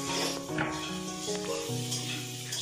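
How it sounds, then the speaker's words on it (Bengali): Leafy greens such as spinach, radish or fenugreek greens sizzle steadily as they fry in a home kitchen, with a continuous crackle beneath strong tonal hums in the room. "ওইদিকে বাবা রান্না করছে, পালং শাক নাকি মূলো শাক বোধ হয় নাকি মেথি শাক ভাজা করছে"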